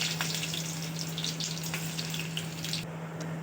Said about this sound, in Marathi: आता यामध्ये घालायचं आहे लसूण चेचून घेतलेलं आपण ते